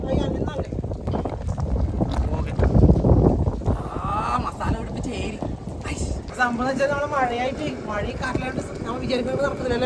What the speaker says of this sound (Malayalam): ഭയങ്കര കാറ്റ് ഭയങ്കര കാറ്റ്